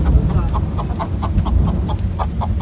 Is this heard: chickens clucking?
yes